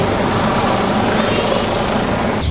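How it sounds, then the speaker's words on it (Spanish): A helicopter flies overhead above a street of terrace restaurants in Polanco, Mexico City, a loud steady broadband rumble and rotor wash that fills the whole stretch without letup. "he intentado agarrar el helicóptero"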